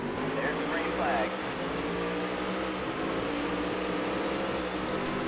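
Race car engines drone and rise together at a green-flag start in the stock-car racing game Dirt to Daytona, a dense steady roar with someone talking over it.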